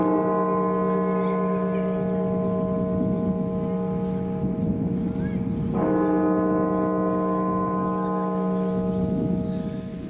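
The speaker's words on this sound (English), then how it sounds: "National Cathedral in Washington, D.C. rang its bells to honor those who lost their lives from COVID-19." A large church bell at the National Cathedral in Washington, D.C. hums with a long, loud, sustained ring that is struck again about halfway through, its deep tone swelling back up.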